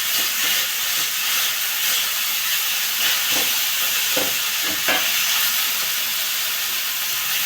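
Fenugreek leaves fry in hot oil in an iron wok, giving a steady sizzling hiss with a few sharper spits and crackles partway through, close up and without talk.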